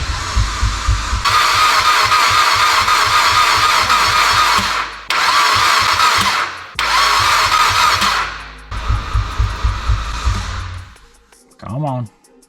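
A four-cylinder Mitsubishi Evo X with a giant turbo on a stock engine cranks over and over in long starter bursts with brief pauses, loud and close, never catching, and a voice speaks briefly near the end.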